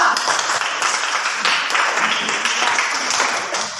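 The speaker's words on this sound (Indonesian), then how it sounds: "Tepuk tangan buat kelompok 2." A classroom of students claps for a presenting group, a loud, close burst of many hands with uneven, overlapping strikes that stays steady for a few seconds before easing slightly.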